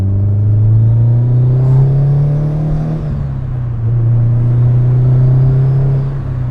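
A car drives along a road with a steady, close engine drone and road rumble, the pitch dipping briefly mid-way before climbing again, with no talking.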